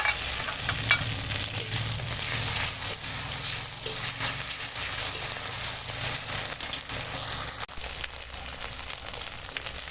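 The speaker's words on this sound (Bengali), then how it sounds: "এবার তেলের উপরে পেঁয়াজ দিয়ে আর পেঁয়াজটা ভেজে এবার আদা রসুন বাটাটা দিয়ে দিলাম" Sliced onions and ginger-garlic paste fry in hot oil with a dense, steady sizzle and occasional stirring scrapes, close and continuous for the full stretch, with no voices.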